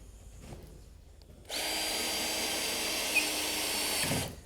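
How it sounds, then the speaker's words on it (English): A power drill drives a screw into greenhouse flooring on a new foundation, whirring loudly and steadily for about three seconds after a quiet lead-in, then cutting off abruptly. "we can drive a screw in there to hold it out"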